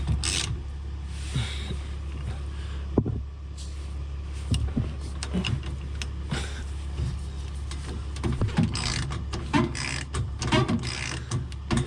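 A fuel filter housing being threaded back into place on a GMC Yukon with an LM2 Duramax diesel engine gives off close, repeated mechanical clicks and scrapes with a steady low hum beneath, and no speech.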